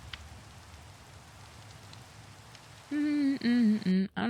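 Steady rain falls in a Minecraft world, an even patter throughout. Near the end a louder tonal voice-like sound cuts in over the rain.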